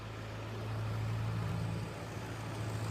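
A rebuilt 7.3 Powerstroke diesel truck engine with new turbo, intake, piping and tune, idling with a steady deep rumble and a constant drone, close up and unbroken.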